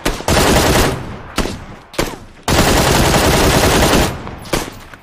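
Rapid automatic gunfire from a PUBG match, long sustained bursts broken by short pauses, loud and close, with several separate volleys across the span.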